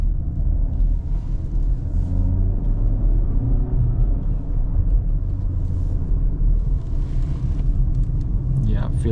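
A CUPRA Terramar 1.5 eTSI petrol SUV of 150 HP, driven at night in performance mode, gives a steady low engine and road rumble heard from inside the cabin. It continues unbroken through the clip, with a brief burst of brighter noise near the end.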